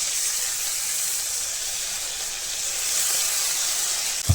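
Onion, garlic, cumin and ginger paste sizzling in hot oil, a steady loud hiss that runs continuously with a small clunk at the very end, no talking.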